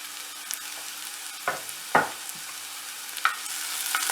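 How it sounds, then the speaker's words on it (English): Garlic and onions fry in oil with a continuous gentle sizzle, broken by a few distinct scrapes and knocks as a utensil stirs them around the pan. "Give it a stir around and make sure all of that garlic soaks into the oils and the onion as well"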